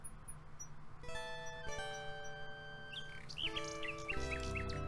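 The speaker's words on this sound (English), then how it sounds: "A nightingale perches on a high branch of the tree. She sings the most beautiful song Alexander has ever heard." A nightingale sings in the video game King's Quest VI, a bright chirping birdsong carried over sustained synthesized music notes and growing busier toward the end.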